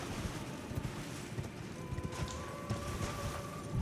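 Horse hooves clip-clop at a steady trot in the Elden Ring video game, set in the underground Nokron, Eternal City area, moderately loud over a soft windy ambience with a faint tonal hum and no talk.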